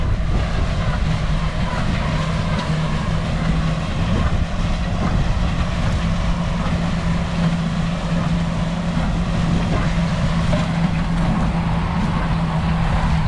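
A tractor's steady, close engine drone with a low hum runs continuously, rumbling evenly without pause, in a dusty field.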